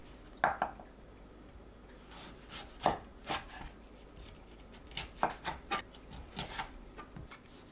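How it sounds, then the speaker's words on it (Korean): A knife chops a cored tomato into bite-size pieces on a cutting board, a series of crisp, close taps in small irregular clusters over quiet background. "한입 크기로 썰어주세요"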